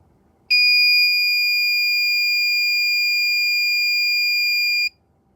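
An endotracheal tube movement detector sounds its alarm as one steady, high electronic tone. It starts abruptly, holds at an even, loud level for about four seconds, then cuts off sharply, with no voices.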